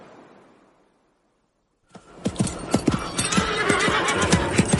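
A horse bursts into a gallop after a near-silent pause, its hooves pounding in a fast, loud, close rhythm with a whinny, in a dark thriller chase scene.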